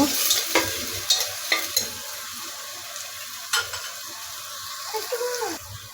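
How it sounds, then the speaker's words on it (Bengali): Chopped onion fries in hot oil while a spatula stirs it, with steady sizzling under repeated scraping knocks against the pan, close and moderately loud. "দেখুন আমার পেঁয়াজটা হালকা করে ভাজা হয়ে গিয়েছে।"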